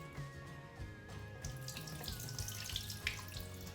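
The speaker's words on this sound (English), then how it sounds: "So I just water underneath the foliage as best as I can" Water pours from a watering can onto the soil beneath the leaves of a house plant, a soft steady trickle with light splashes. A low continuous hum runs throughout, and the whole scene sounds quiet and close.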